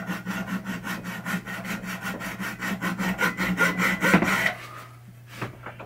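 A hand saw cutting through wood while modifying a 1974 Williams Skylab pinball chime box, with steady rapid back-and-forth strokes, close and loud, ending in a few light knocks.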